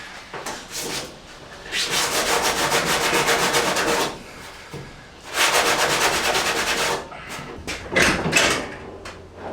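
Hand sanding of a truck body with 80 grit sandpaper: long rasping back-and-forth strokes in close bursts of a couple of seconds, separated by short pauses.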